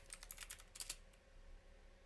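Quick bursts of keystrokes on a computer keyboard while entering a prompt, a close, light clatter of about a dozen taps over two seconds followed by quiet.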